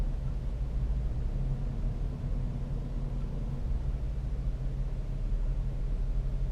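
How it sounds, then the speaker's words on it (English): A Mercedes-Benz GL550 V8 engine revs under light throttle in manual first gear, a low, steady muffled rumble heard from inside the SUV, fairly loud and even throughout with no talking. "I'm gonna give it a little gas."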